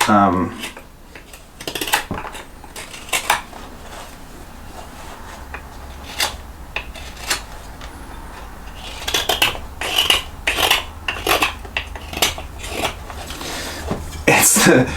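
A knife carving a cherry wood spoon, with scattered sharp cutting and scraping strokes at irregular intervals, close and clear, clustering more densely toward the end, while someone talks in between.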